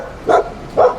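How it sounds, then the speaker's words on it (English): Two sharp dog barks spaced about half a second apart, close and loud against a quiet background. "No matter how eloquently a dog barks."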